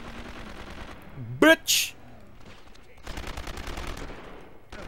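Bursts of automatic gunfire in the Metal Gear Solid 5 video game come as a sharp cluster of loud cracks, followed by longer stretches of rapid, lighter firing, with someone shouting over it.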